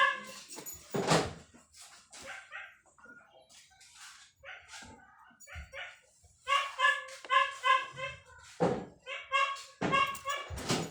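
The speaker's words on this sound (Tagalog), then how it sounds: "Yun yung aso." A dog barks and whimpers in uneven bursts, with short yips and higher whining cries that come close and fairly loud, and quieter stretches between them.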